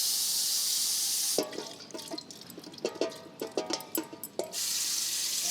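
Running water splashes and drips into a pot while food is rinsed for a Bengali dish, with broadband water noise giving way to a series of distinct close splashes and clinks before the steady flow resumes.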